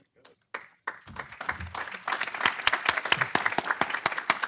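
Applause from a small audience at a talk on sustainably feeding 10 billion people by 2050, starting as a few scattered claps and building into steady, fairly close clapping, with a voice speaking briefly at the start.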